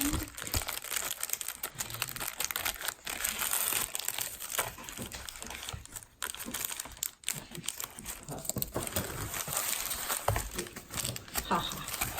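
Paper packaging for an art print order crinkles and crumples up close as it is cut and folded, a busy, continuous rustle with dense small crackles.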